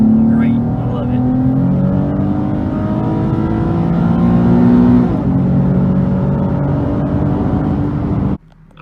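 A Nissan 370Z with a muffler delete revs loudly and close up, its raspy exhaust droning and climbing in pitch through sustained pulls before cutting off abruptly near the end.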